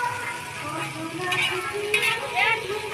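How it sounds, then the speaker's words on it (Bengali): Cabbage, beans, carrot and onion for chowmein fry at a street food stall, a steady sizzle with stirring and scraping in the pan, close by. "এই চাউমিনের সব স্যালাড ভাজা হচ্ছে, বাঁধাকপি, বরবটি, গাজর, পেঁয়াজ"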